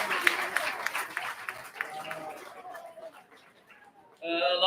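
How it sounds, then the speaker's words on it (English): Ringside crowd at the Summit County, Utah Fair livestock market judging applauds the market steer exhibitors: scattered, moderately distant clapping that fades out, followed by a voice over the loudspeaker. "One big round of applause for the market steer exhibitors today."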